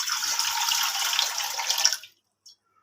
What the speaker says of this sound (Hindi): इसमें 1 गिलास हम पानी डाल देते हैं।